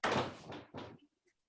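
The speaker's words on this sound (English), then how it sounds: "Let me close my doors." Two doors are shut in quick succession indoors, each a close, solid thud, followed by near silence.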